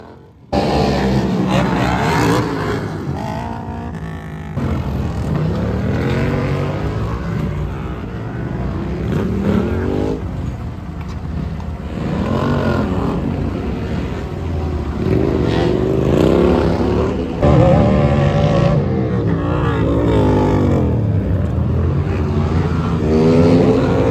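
Super Twins class motorcycles racing at Sturgis, loud engines rising and falling in repeated passes as bikes scream by, with a voice talking over parts of it.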